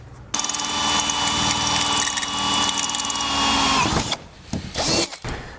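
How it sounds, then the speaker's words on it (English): A power drill whines loudly and continuously for several seconds while drilling a hole in a tow base plate bracket on a 2020 Jeep, then cuts off, followed by a few short rattling bursts as it spins down and restarts briefly. "we're going to drill a hole in our bracket here to line up with that hole"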